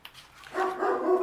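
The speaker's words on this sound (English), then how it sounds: "excuse the dogs barking downstairs" Dogs bark downstairs in a house, a few slightly distant, muffled woofs that build into a steadier run of barking, with no talking over them.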